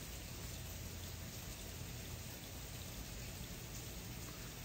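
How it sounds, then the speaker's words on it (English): Steady night rain falls in a dense, even hiss, close and continuous throughout with no voices or other sounds on top. "The rain's dying down just a little bit."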